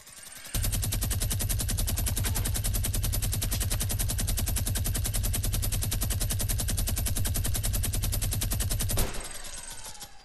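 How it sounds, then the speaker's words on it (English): A minigun in Fortnite fires one long unbroken burst for about eight seconds, a dense, loud rattle of rapid shots that cuts off sharply. "should we minigun him?"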